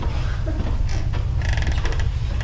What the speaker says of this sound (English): immediately the door starts like opening and closing